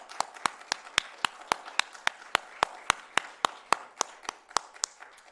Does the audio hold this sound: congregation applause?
yes